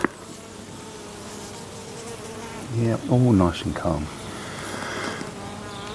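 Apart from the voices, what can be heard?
swarm of honey bees buzzing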